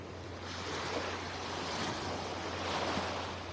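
Ocean surf on Vanderbilt Beach in Naples, Florida: a steady, broad wash of waves with wind rumbling against the microphone, continuous and fairly close, with no talking.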